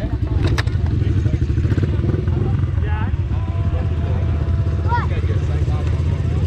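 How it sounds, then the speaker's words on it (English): A child's dirt bike engine runs with a steady, rapid putter and buzz near the microphone, holding a constant idle throughout while voices talk faintly over it. "Daddy's gonna start your bike up."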